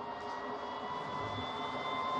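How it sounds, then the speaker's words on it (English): Blower motor of an XR940A powered air-purifying respirator (PAPR) runs with its hose end covered, giving a steady close whirring drone with a high whine that rises slightly as the motor speeds up. "you can hear the motor speeding up. It's trying to compensate for the reduced airflow."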